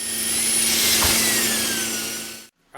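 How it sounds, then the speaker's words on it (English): A drill whirs steadily for about two and a half seconds while drilling out the primer of a shotgun shell, loud and close, then stops abruptly. "I'm going to show you another way you can drill this out."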